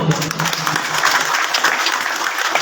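Audience applause at an annual school results ceremony in a campus hall, steady dense clapping holding for the whole stretch with no break.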